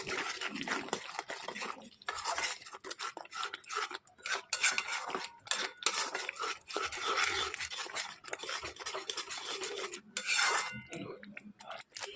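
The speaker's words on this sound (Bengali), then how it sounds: "ভালো করে মিশিয়ে নিতে হবে।" Spoon mixing sugar, turmeric and salt into spiced potatoes in a cooking pot for aloo dum, close repeated scraping and clinking against the metal in an uneven rhythm without talk.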